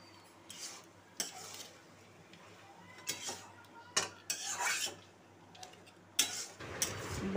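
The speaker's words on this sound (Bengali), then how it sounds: "বড়িগুলো দিয়ে ভালো করে নাড়াচাড়া করে নেব।" A spoon stirs fried lentil dumplings into cooking vegetables in a pan, producing repeated scraping and clattering strokes at an uneven rhythm over a faint, low sizzle, close and quiet.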